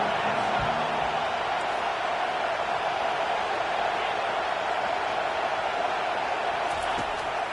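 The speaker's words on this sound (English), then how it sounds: "Here comes this home crowd as the defense tries to get off the field on 3rd down" A home crowd at a college football game, Oklahoma State against Oregon, roars as a steady broad wall of noise during a third-down defensive stand, sustained and loud throughout.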